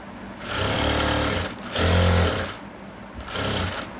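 A sewing machine runs in three short bursts of about a second each with brief pauses between them, stitching the side joint of a chudi. The motor whirr is loud and close.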